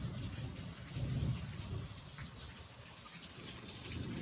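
Rain pours down steadily during an afternoon thunderstorm, with a continuous broadband wash of drops and a low rumbling swell around the middle of the stretch, moderately loud and unbroken, no voices.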